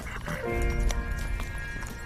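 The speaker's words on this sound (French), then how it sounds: "Il y passe des chars à bancs tirés par un cheval au galop, selon l'état d'âme du conducteur." A horse at a gallop pulls a bench cart along an unpaved road, its rapid clip-clop hoofbeats close and steady with a brief whinny, under a continuous musical drone.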